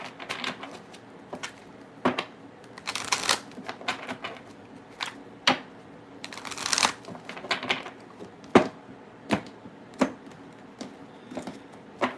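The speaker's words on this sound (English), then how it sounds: "I'm thinking out loud right now while I shuffle" Tarot cards being shuffled by hand, a soft papery riffling that comes in repeated bursts with sharp clicks and taps between them, close and fairly quiet with no talking.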